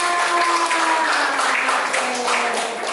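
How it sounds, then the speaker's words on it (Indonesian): A group applauds Stephen after he speaks. Dense, steady clapping stays loud throughout, with a faint tonal hum underneath. "Tepuk tangan buat Stephen"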